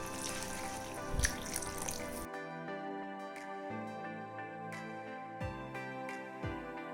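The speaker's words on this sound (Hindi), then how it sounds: "अब इसमें हम ग्रेवी के लिए पानी डाल देते हैं" Water splashes into a pan of cauliflower and pea masala to make gravy for about two seconds, then stops as soft tonal music takes over.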